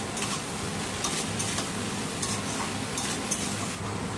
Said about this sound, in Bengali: পেঁয়াজ দিয়ে আমি ভালো করে কিন্তু আলু বেগুন কষিয়ে নেব একসাথে